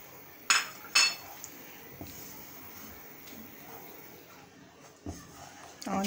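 A spoon clinks against a pot as rice kheer with crushed biscuits is stirred on low heat, two sharp metallic knocks near the start, then a softer scrape and a few more taps toward the end.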